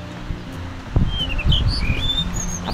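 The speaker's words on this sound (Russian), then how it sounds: "А птички-то птички" Birds chirping outdoors on Jeju island in Korea, several short high tweets and rising whistles scattered over low rumbling background noise, fairly near and clear.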